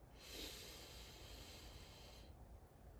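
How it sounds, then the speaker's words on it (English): A slow, deep inhalation drawn in through the nose during box breathing, a steady airy hiss lasting about two seconds before stopping, close and fairly quiet. "Let's breathe in"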